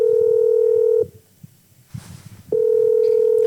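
A phone line plays a steady, loud dial-style tone that cuts off after about a second, gives way to a short quiet stretch with faint rustling, then resumes, all before a handset is answered.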